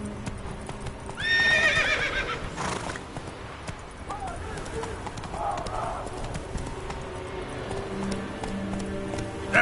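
Roach, a horse in The Witcher video game, gallops with a rapid clip-clop of hooves and lets out a loud whinny early on. Hoofbeats continue in a steady rhythm against ambient game sound.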